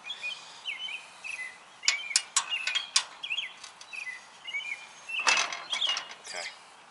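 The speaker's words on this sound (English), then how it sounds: "You can hear the birds are having a fun time today," Birds chirp in short, bright calls outdoors near a mountain bike car rack being adjusted, with occasional metallic creaks and clicks from the rack mixed among the moderately faint calls.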